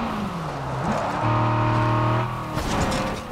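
A car in the video game State of Decay 2 drives close by with a steady engine drone that rises as it revs, then shifts pitch near the end, with no voices.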